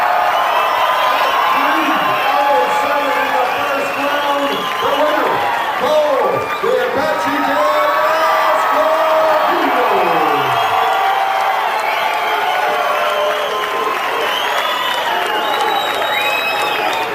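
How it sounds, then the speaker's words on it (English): A large crowd at a WEC mixed martial arts fight cheers loudly and continuously, with whoops and shouts rising through a dense, roaring wall of noise; a commentator's voice runs faintly underneath. "booing him on the way in, cheering him on the way out."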